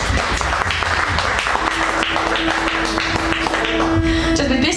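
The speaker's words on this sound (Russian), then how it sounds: "там надо много-много аплодисментов" Dense audience applause fills a lounge venue during a live band concert, steady and loud throughout with scattered sharper claps and a faint sustained tone underneath.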